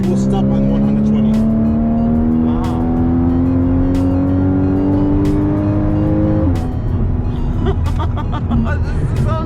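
A loud 2015 Porsche Cayman GTS engine revs close by, its pitch climbing steadily as it accelerates, then dropping sharply at a gear change before pulling on.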